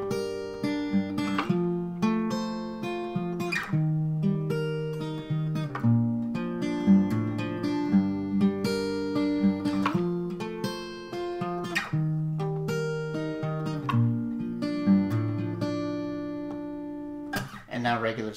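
An acoustic guitar plays a riff slowly, with picked single notes and chords ringing in a steady, unhurried pattern, close and clear with no talking.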